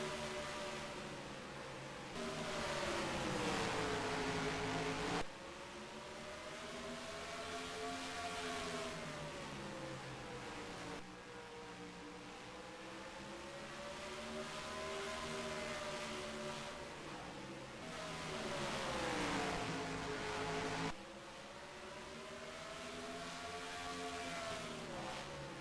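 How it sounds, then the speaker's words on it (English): Race cars circling a speedway oval at Mansfield Motor Speedway in a Red Bull Cup Series event, engine notes rising and falling in pitch as they pass and ease off, a steady loud drone with repeated swells from cars downshifting. "it sounds like he might be downshifting here. You can kind of hear the wheels screech a little bit"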